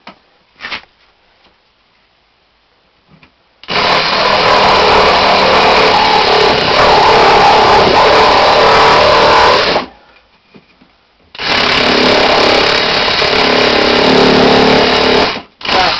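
A Milwaukee M12 cordless hack saw runs in two loud, close bursts of buzzing reciprocating motor noise, each several seconds long and separated by a short silence.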